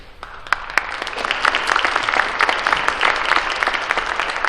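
A dense, loud round of audience applause at a spelling bee, steady and sustained throughout with many overlapping claps and a faint murmur of voices underneath.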